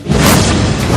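A loud, dense boom stands in for a suicide bomb exploding inside a church in Sri Lanka in a 2019 Kannada news bulletin. It is a brief, close, rumbling burst with no voices.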